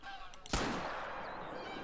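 A single goose honk rings out sharply in a goose-hunting video game, followed by a sustained wash of outdoor ambience and faint background noise.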